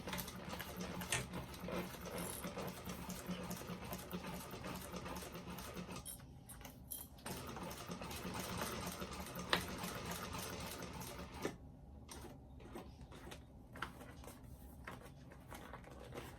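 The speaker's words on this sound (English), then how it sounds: "Pick a place to start and start sewing." A sewing machine stitches a fabric bag, a quiet continuous mechanical whir with fine rapid needle ticks and brief pauses, faint and close with no voices.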